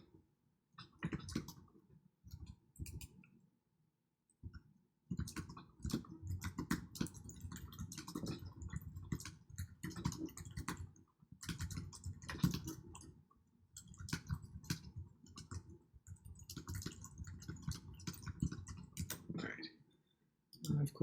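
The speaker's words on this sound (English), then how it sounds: "let me just type that in real quick" Rapid clicking of fingers typing on a computer keyboard while text is entered into a WordPress website, coming in bursts of key clatter broken by short pauses, close and fairly quiet.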